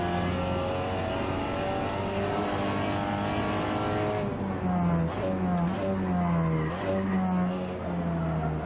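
A Seat Leon TCR race car at full throttle in Assetto Corsa at Okayama: a loud, steady engine drone that climbs in pitch, with quick gear shifts partway through.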